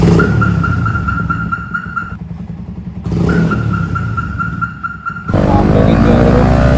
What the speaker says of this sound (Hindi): आप लोग एंजॉय करो एग्जॉस्ट की आवाज़।